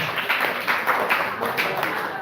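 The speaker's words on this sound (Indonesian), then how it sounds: "tepuk tangan dulu dong" Applause for a young participant at a mosque-community gathering: a crowd claps in a steady, moderately loud patter for about two seconds, with speech faintly mixed in.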